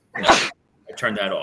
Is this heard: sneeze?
yes